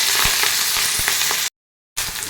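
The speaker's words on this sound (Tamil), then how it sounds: "இப்போ பச்சை மிளகா கருவேப்பிலை போட்டுக்கலாம் வெங்காயம் சேர்த்துருங்க" Onions, green chillies and curry leaves fry in a pan with a loud, bright sizzle and occasional pops. The sound cuts out to total silence for about half a second, then resumes.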